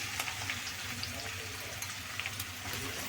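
Onions sizzling and frying in a pan of oil while making crab curry, a steady soft crackle and hiss with faint stirring clicks, no voices.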